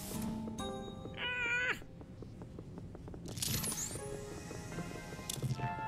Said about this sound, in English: Where is this stupid cat?